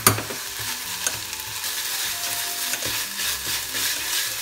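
Chili paste frying in oil in a pan as ramen is cooked at home, a steady crackling sizzle with soft, repeated scrapes of a utensil stirring the paste, close and fairly loud.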